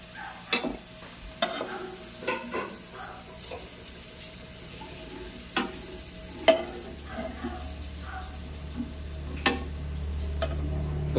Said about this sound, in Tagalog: ipiprito mo ng konti